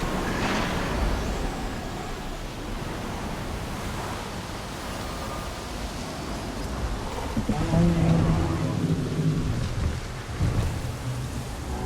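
A thunderstorm in the Jurassic World Evolution video game brings steady, dense rain with low rumbles of thunder swelling and fading underneath, continuous throughout.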